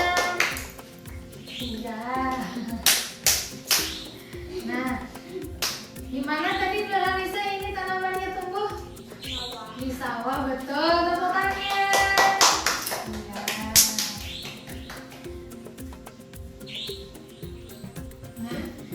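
An elementary school class of children claps in scattered bursts amid a classroom, with children's voices and chatter rising between and over the clapping.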